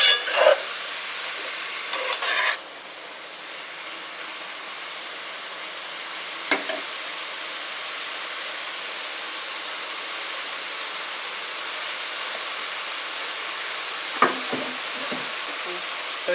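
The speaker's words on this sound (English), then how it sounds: "So you're going to give that a good mix. Mix all the seasonings and your chichira." Chichira is mixed with seasonings in a frying pan, giving a steady sizzling hiss with a few brief scrapes and stirring clatters scattered through it.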